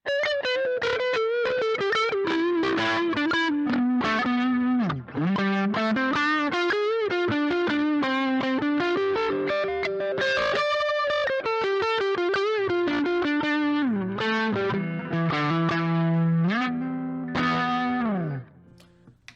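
A distorted, overdriven Epiphone Les Paul Special II electric guitar plays a continuous melodic line with sustained notes and slides, loud and close, with no talking.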